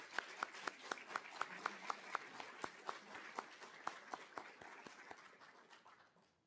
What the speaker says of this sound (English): Please take this opportunity to give them a round of applause